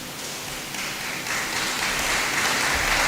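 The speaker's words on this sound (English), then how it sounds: "Can we clap for them?" Audience applause for the last presenting team at a scientific conference in Africa, a steady wash of clapping that swells slightly louder over a few seconds.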